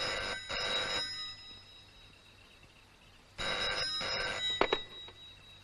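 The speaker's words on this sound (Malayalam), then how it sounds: "ഇത് മഹേന്ദ്രവർമ്മയുടെ ഫോണാണെങ്കിൽ നീ സംസാരിക്കാതിരിക്കാൻ നല്ലത്." A telephone bell rings loudly in two long bursts separated by a pause of silence, close by with no talking.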